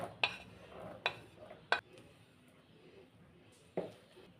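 A utensil folds dusted tutti frutti into cake batter in a bowl, with four sharp, separate clinks against the bowl's side amid soft, quiet stirring.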